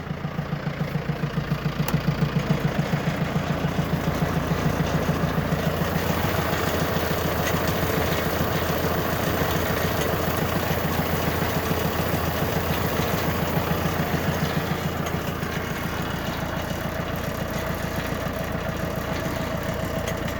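Tractor engine idling steadily while driving a PTO winch, a continuous low mechanical drone with even pulsing, moderately near and unchanging for the whole stretch, no voices.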